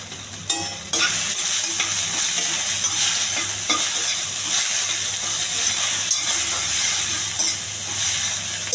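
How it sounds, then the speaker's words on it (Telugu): Boiled sweet corn being stir-fried with salt and chili, giving a steady, close sizzle with repeated stirring and scraping in the pan throughout, and no voices. "ఉప్పు కారం బాగా పట్టేంత వరకు ఎగుస్తానండి"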